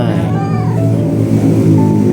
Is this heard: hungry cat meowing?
yes